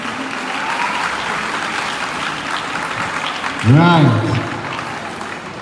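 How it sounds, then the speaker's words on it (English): An audience at a high school debate claps steadily for a team taking their seats, a dense sustained wash of applause with a brief spoken word near the end. "Clap for them, clap for them, clap for them. Clap till they take their seats."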